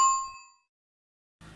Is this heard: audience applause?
no